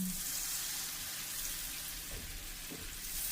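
Butter browning in a pan gives a faint, steady sizzling hiss with soft low bumps of movement, heard up close and alone.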